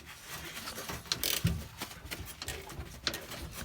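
A 10mm spanner or socket ratcheting on motor bolts inside a Bosch/Siemens washing machine, quick close-up clicks and ticks at a light, uneven rhythm with metallic scraping and no talk.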